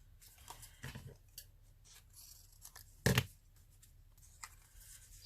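Scissors snip through paper in a single short, sharp cut near the middle, close and clear over faint room noise while an illustrator trims an artwork.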